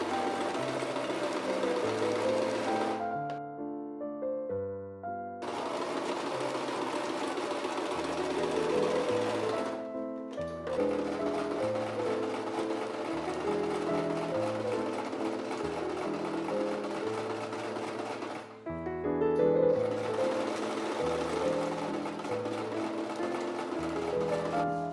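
A sewing machine stitches patchwork quilt rows together in close, steady bursts of rapid mechanical whirring, stopping briefly three times between runs before starting up again.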